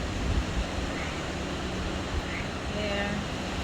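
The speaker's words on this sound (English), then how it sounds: "It's very windy right now." Strong wind from Hurricane Ian in Sarasota, Florida, a steady dense outdoor rush that stays constant throughout the clip, with no voices over it.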